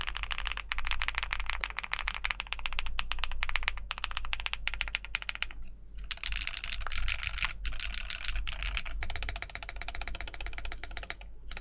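Rapid, steady typing on a Think 6.5 V2 mechanical keyboard with Glorious Panda tactile switches and an FR4 plate, close and continuous, with a few short pauses and no talking.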